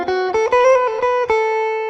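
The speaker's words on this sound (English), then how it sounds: "The lick we're going to play with the 4 chord is a really nice D Mixolydian lick" A solo blues guitar plays a D Mixolydian lick over the IV chord: a quick run of clearly picked single notes with slides, ending on a sustained ringing note, close and alone with no talking.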